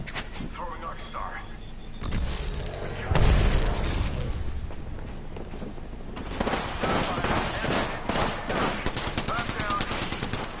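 An Arc Star grenade is thrown and bursts in a video game firefight, landing as a heavy low boom about three seconds in, wrapped in near-continuous rattling gunfire that continues around it.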